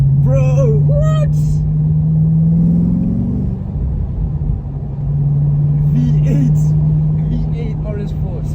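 Audi B7 RS4 Avant with a V8, a loud steady engine drone rising in pitch as it revs, with someone talking excitedly over it at the start and end.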